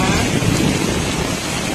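Steady heavy rain pours in a dense, continuous hiss, loud and close throughout, with no distinct drops standing out.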